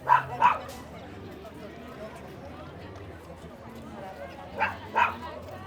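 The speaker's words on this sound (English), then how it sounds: "A little angry chihuahua." A small, angry chihuahua barks in two quick pairs of sharp yaps, one pair at the start and one near the end, along an outdoor lakeside promenade in Jocotepec, Mexico, with ambient street noise between.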